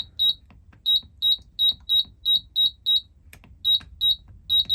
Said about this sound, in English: we simply cycle through these switches to make sure they all beep and work